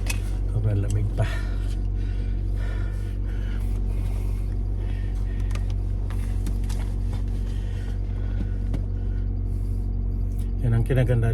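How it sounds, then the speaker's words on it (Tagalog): A car engine idles steadily while warming up in very cold weather, giving a constant low rumble that fills the whole stretch at close range, with occasional faint rattles on top. "Init muna tayo ng sasakyan kasi sobrang lamig pa."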